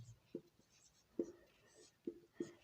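Chalk or pen strokes from a teacher writing a word on a board during a class, four short, faint taps and scratches spaced irregularly in a quiet room.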